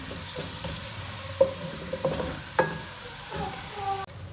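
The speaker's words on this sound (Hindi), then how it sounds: "इसको भी इसके अंदर हम साथ ही फ्राई करेंगे" One large onion, finely chopped, fries in a pan for a kofta egg curry: a low steady sizzle broken by a few sharp spatula clicks and scrapes as it is stirred.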